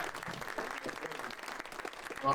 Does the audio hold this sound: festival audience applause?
yes